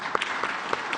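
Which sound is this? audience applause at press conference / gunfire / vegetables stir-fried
audience applause at press conference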